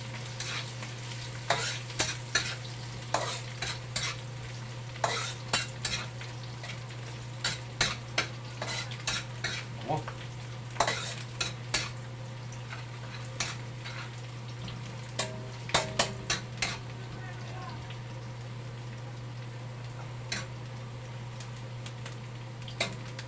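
Garlic sizzles in rendered pork fat as a spoon repeatedly scrapes and taps the pan in quick, irregular strokes, all over a faint continuous frying hiss.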